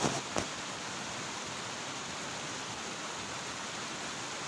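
Water pouring at waterfalls near Nellore after heavy rains, a steady hissing rush at moderate distance with a couple of brief knocks at the start.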